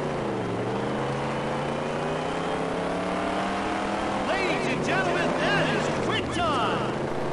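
Dirt Track Racing 2 race cars droning steadily around a dirt oval in the video game, engine tones sweeping up and down with gear changes and several cars rising and passing later, loud and continuous without any talk.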